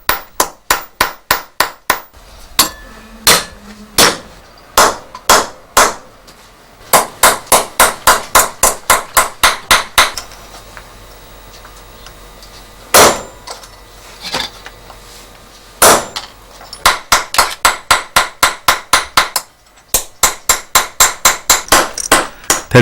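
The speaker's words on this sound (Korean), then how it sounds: "여러 가지 봉오리판과 통배기를 이용해 정과 망치로 모양을 잡아간다." White brass pipe parts being shaped with a chisel and hammer by a traditional pipe craftsman: sharp, loud metallic strikes in quick rhythmic bursts, with short pauses between runs of blows.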